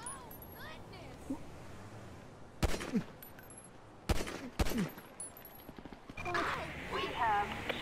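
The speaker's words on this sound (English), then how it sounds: "We have shots fired on Del Perro Freeway." Gunfire in GTA V during a chaotic freeway scene: several sharp, loud shots arrive in separate bursts around the middle, mixed with game sounds, engine noise and other effects, and a voice talks at times.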